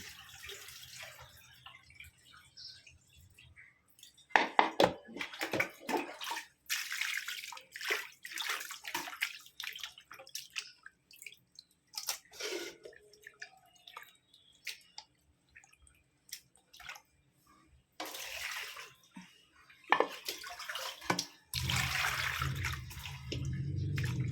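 Tap water runs in intermittent bursts as raw shrimp are rinsed clean in a kitchen sink, with splashing, sloshing and drips between quieter pauses, close by and without speech.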